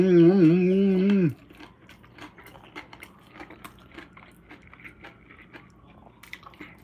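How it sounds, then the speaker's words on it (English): Soft crunchy bites and chewing of a homemade breakfast sandwich, close and quiet after a brief hum at the start, with small wet mouth sounds continuing alone. "First bite of my childhood sandwich growing up that my mommy used to make me."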